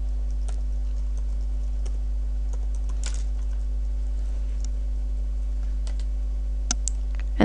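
Keys on a computer keyboard tap out a web address in a few sparse, faint clicks scattered over a steady low electrical hum.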